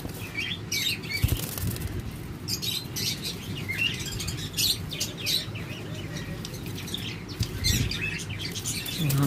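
Pet lovebirds and cockatiels in a cage, with continuous overlapping chirps and tweets and repeated bursts of wing flapping, fairly close and busy throughout.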